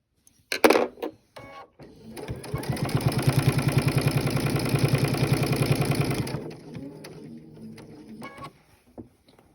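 A sewing machine stitches quilting fabric up to a seam, a brief click then a steady rapid mechanical chatter for about four seconds before stopping, close and alone.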